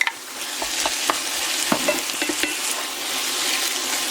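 A spoon stirs spiced ground beef filling with paprika, herbes de Provence, salt and pepper in a hot pan, scraping and clicking against the pan over a steady close sizzle of frying.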